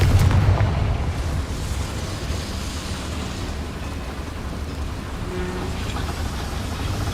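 A Confringo spell explodes in the Hogwarts Legacy video game with a heavy boom at the start, then fades into a long, low rumble that lingers for several seconds.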